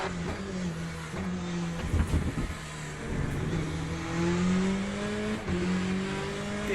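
Race car engine in the Le Mans Ultimate racing game, with LMP2 and GTE cars at Imola, droning steadily and rising in pitch through gear changes, with a brief rough burst near the start.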